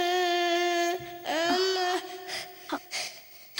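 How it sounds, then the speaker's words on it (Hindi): A child cries in a wailing, sobbing voice in a dubbed horror film scene, with sustained drawn-out wails breaking into shorter sobbing bursts. "तुम्हें किसी बच्चे के रोने की आवाज सुनाई दे रही"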